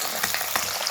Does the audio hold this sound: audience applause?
no